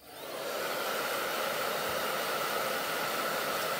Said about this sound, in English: I'm gonna hit these with the blow dryer again